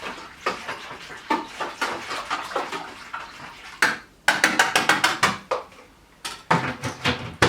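Wire whisk clattering and scraping around a plastic fermenting bucket as a Muntons and Tiny Rebel Cwtch beer kit mixture is stirred, giving rapid uneven metallic ticks and swishes of liquid, close and fairly loud, with a couple of brief pauses.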